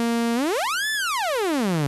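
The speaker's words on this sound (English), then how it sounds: "This is the sound of oscillator" A single oscillator on a Micromac D synthesizer holds a steady pitched tone, then sweeps smoothly up and back down in one arc, loud and alone with no voices.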